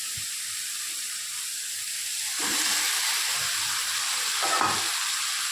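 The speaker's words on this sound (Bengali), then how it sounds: "এবার আমি মাংসটা এতে মিশিয়ে দেবো।" Chicken stirred into curry masala frying in a pan gives a steady, close, hissing sizzle, with soft scraping stir strokes rising twice as the pieces are turned.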